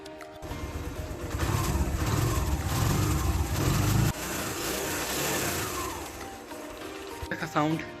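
A Suzuki GR 150 motorcycle engine revs up loudly, holds a throaty roar, then drops back toward idle before a couple of short blips at the end.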